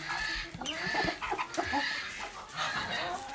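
Silkie and showgirl chickens in a farm brood pen with a nest of eggs give a string of close, soft clucks and short calls in irregular bursts.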